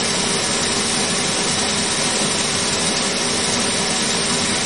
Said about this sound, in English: Start the spindle and do a cut off.